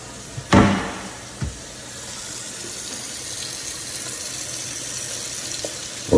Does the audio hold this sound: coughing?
no